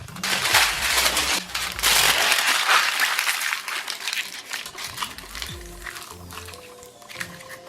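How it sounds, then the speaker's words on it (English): Tin foil crumpled and rolled into balls, dense crackling bursts up close that thin into softer scattered crinkles, with no talking. "I took some tin foil and rolled it into 2 equal-ish sized balls"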